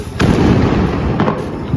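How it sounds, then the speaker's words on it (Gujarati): Firecrackers burst in quick succession, sharp pops over a dense crackling roar, loud and close. "આ તમારે ખૂટતા નથી ફટાકડા તો આખું બોક્સ ભરેલું છે"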